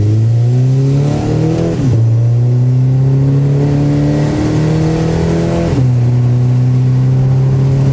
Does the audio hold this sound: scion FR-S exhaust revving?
yes